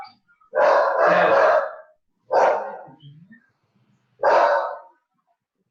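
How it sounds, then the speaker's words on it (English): Puppies bark excitedly in three separate bursts, the first a quick double bark and the next two single, loud and close with short silent gaps between them. "Puppies got excited. They knew Olivia was up."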